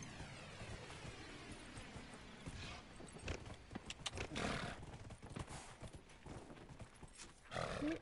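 Horse hooves clip-clopping in Dragon Age Inquisition, a steady run of footfalls at moderate volume over game ambience, with a few heavier thuds and a brief snort-like burst near the end.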